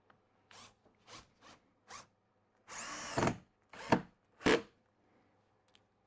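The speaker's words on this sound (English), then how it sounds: "I'm going to put a couple of screws in." Power drill driving a couple of screws into a shimmed wooden board, heard as several short bursts of whirring, then one longer sustained run and two more quick bursts, close and loud with quiet gaps between.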